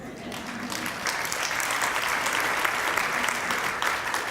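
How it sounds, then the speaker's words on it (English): Applause from a lecture audience swells after a brief quieter start, then holds as a steady wash of many clapping hands, with a faint voice underneath. "That should get an applause."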